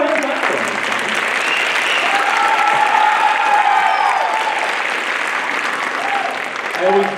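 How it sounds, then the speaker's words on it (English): An audience at a school band holiday concert claps enthusiastically, a dense steady patter of applause that carries on for several seconds with a few cheers mixed in. "go ahead and clap for them."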